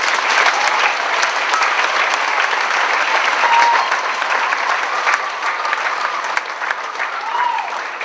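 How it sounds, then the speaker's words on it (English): Audience gives loud, sustained applause for a jazz band's percussionists, a dense steady wall of clapping with faint voices and whoops mixed in. "Give them a big round of applause."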